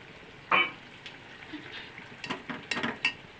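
Tomato paste lands in a hot frying pan for a drumstick curry, setting off a short burst of sizzling, then a run of scraping, stirring splutters and clinks at moderate loudness.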